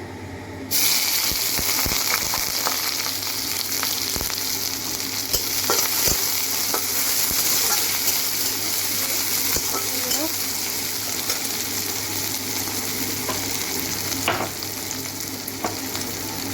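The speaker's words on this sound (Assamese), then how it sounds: "তেলটো গৰম হৈছে অলপ দি দিওঁ পিঁয়াজখিনি দি দিওঁ কেৰাহীত" Onions fry in hot oil in a kadai, a continuous close hiss of sizzling with scattered ticks and scrapes from stirring that holds steady for the whole stretch, no talking.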